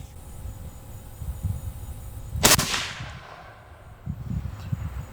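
A single sharp rifle shot firing a hand-loaded round at a target during a long-range scope test, a loud crack standing alone over a low outdoor background rumble, followed by a fading decay.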